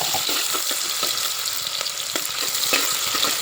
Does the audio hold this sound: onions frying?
yes